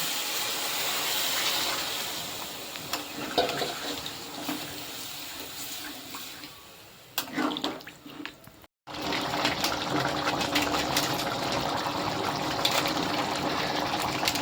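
Broth goes into a jackfruit curry cooked with goat fat, setting off a loud, continuous hissing sizzle and bubbling that cuts out for a moment, then comes back just as strong.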